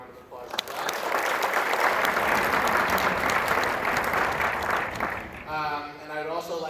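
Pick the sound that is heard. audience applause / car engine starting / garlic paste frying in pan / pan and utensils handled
audience applause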